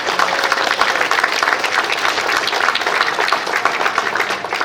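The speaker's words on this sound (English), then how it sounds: "So I give a round of applause to all of them." An audience at a Worldcon future-bidders panel during the Seattle Worldcon breaks into dense, steady applause that holds at full strength for the whole stretch, with no voices over it.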